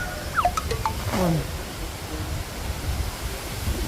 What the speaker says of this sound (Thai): ลมแรงมากค่ะลมแห้งหลายขึ้นแม่ลมแห้งหลาย